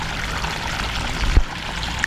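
Water runs steadily across a flooded rice paddy in the Philippine countryside, a continuous close rushing pour with one brief low thump partway through.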